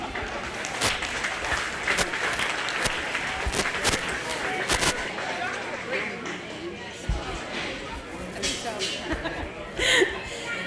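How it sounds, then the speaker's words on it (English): A crowd at a county fair steer show in Iowa applauds with a steady rustling patter, while an announcer's voice and crowd chatter carry on over it. "Give them a big round of applause."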